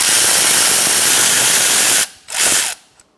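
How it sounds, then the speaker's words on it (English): A 10mm socket removes the front brake caliper bolts on a 2013-2022 Buick Encore: a loud, steady mechanical whirring for about two seconds, then a short separate burst and silence. "Now we're going to take out our 2 bolts here with a 10mm socket."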